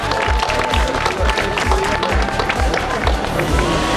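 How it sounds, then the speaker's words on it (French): A crowd claps at a cycling race podium ceremony for a stage of the Essor Breton in Audierne, a steady dense patter of applause with a loud rhythmic thumping underneath and some voices mixed in. "Vos applaudissements, s'il vous plaît."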